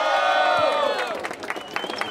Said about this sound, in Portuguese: Faz barulho pra batalha aí, família!